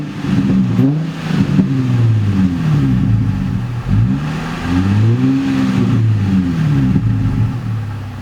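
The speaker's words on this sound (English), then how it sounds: "Sound like I might have an exhaust leak somewhere, but not too bad." Loud Nissan 350Z exhaust revs repeatedly, the engine climbing and falling in quick blips over a throaty idle, with a possible slight exhaust leak and no voices.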